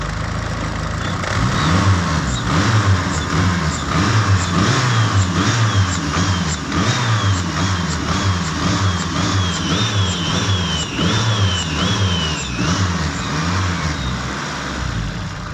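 A Honda Civic EK9 race car with a turbocharged K20 engine revs repeatedly, a rhythmic series of loud, close blips rising and falling over a steady mechanical hum.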